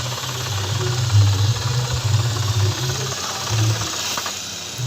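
A borewell drilling rig's engine runs at a house in Lakshminagar, Virudhunagar, droning loud and steady with a low throb, under a constant rattling hiss from the drilling.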